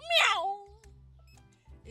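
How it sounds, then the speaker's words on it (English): A cat meows once in the Supermarket Simulator video game, a clear rising and falling cry up close, followed by a low steady in-game hum and soft clicks. "That is the sound of a French cat."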